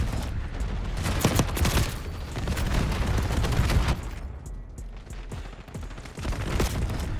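Stryder .22 burst pistol firing in Black Ops 6, dense rapid bursts of loud gunfire with booming impacts layered over a busy game soundscape, a short lull partway through before shooting resumes.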